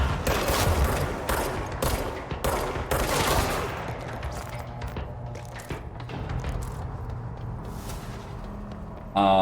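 Loud, rapid bursts of player gunfire in the video game Control crackle in close succession for the first few seconds, then thin out into scattered shots over a rumbling game backdrop.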